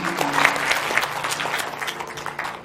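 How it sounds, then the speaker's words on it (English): Audience applauding a keynote speaker at a girls' event, a steady wash of many hands clapping at moderate volume with a few brief voices mixed in, sustained throughout. "Please help me give a big round of applause to our amazing speaker, Dr. Cindy."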